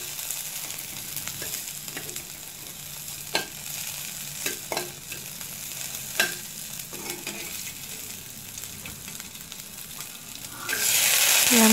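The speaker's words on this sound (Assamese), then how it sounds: "এনেদৰে 1 মিনিটমান সময় ভজাৰ পাছত যেতিয়া পিঁয়াজখিনি অলপ ৰঙা হ'ব" Onions fry in a pan with a soft, steady sizzle, broken by scattered clicks and scrapes of stirring, before a louder burst of hissing near the end.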